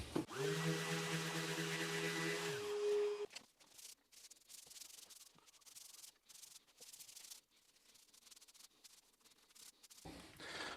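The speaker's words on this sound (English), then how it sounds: "quick sanding between layers." A power sander works over a wooden bench between finish coats, steady and loud for about three seconds before cutting off, leaving quieter rustling and rubbing afterward.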